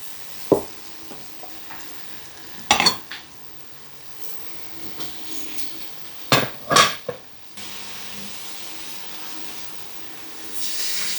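Carrots and mixed vegetables frying in oil in a pan for South African chakalaka, a soft continuous sizzle broken by a few sharp clanks and scrapes of stirring, with no talking.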